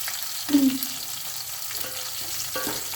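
Onion frying in a pan until reddish, a soft steady sizzle close by with a brief louder scrape or clink early on and faint stirring sounds after.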